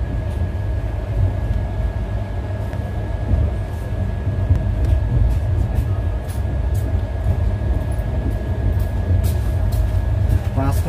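The Avadh Assam Express, a long-distance Indian passenger train on the Northeast Frontier Railway, pulls out of Farkating railway station with a steady, close rolling rumble and a faint constant hum throughout.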